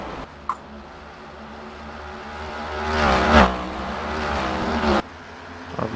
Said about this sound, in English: you an opportunity to hear these great engines